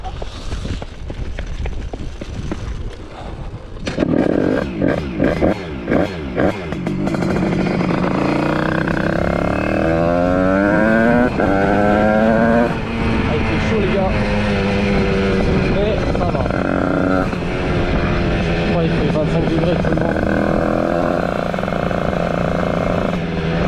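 A 50cc moped fitted with a 115 LMR kit is push-started on a country road, then its small two-stroke engine buzzes loudly and revs up and down in rising and falling sweeps, with people talking over the opening seconds.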